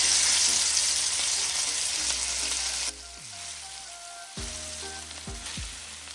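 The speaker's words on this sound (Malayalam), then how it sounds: "ഇതിലേക്ക് നമുക്ക് പൊരിക്കാനുള്ള മീൻ ഇട്ട് കൊടുക്കാം." Fish frying in hot oil Kerala-style, a loud steady sizzle that drops and settles partway through, with occasional clinks and scrapes of a utensil in the pan, no voices.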